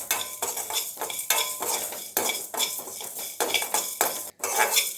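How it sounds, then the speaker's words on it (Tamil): Fenugreek and cumin seeds dry roasted in a kadai, with a metal spoon scraping and clinking against the pan in repeated quick strokes, the seeds rattling in short bursts between them. "நல்லா ட்ரை ரோஸ்ட் பண்ணிடலாம்"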